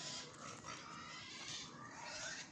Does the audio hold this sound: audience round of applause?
no